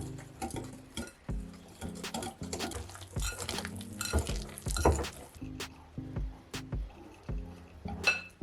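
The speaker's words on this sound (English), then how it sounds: "And now we whisk." Pancake batter is whisked in a bowl, producing quick clicking and tapping of the whisk against the bowl with wet liquid patter, close and fairly quiet, in uneven bursts.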